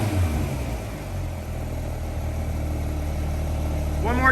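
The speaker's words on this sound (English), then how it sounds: "So, Glenn, go ahead and rev it up." A Porsche 992 GT3 fitted with a JCR exhaust holds a steady, loud engine note, with a brief rising rev flicker at the very end.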